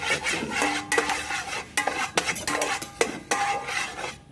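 Metal utensils scrape and clatter against a wok in quick, irregular strokes, stir-frying garlic and pepper aromatics in oil, close and fairly loud.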